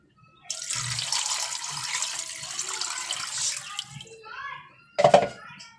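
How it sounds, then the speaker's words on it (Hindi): Water poured into a cooking pot with coriander, garam masala, salt and bay leaf for yakhni, a steady splashing pour lasting a few seconds before a brief clatter and some speech. "चार गिलास पानी डाल देंगे।"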